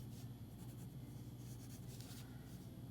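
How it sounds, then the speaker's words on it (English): Pencil sketching facial features such as the nose on paper for a mask portrait, a steady soft scratchy rasp that continues through the whole stretch at low volume, with a faint hum underneath and no talk. "I'm going to sketch those in quickly."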